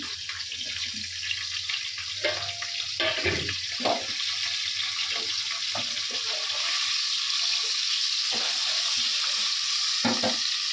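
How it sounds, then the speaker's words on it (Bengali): Tilapia fish fry in oil with a steady hiss filling the whole stretch, with scattered soft knocks and clatter of kitchen utensils nearby. "মাছটা ভাজা হোক।"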